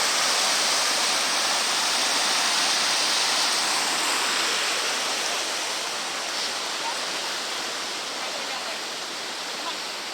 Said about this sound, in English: Nice little rapids there.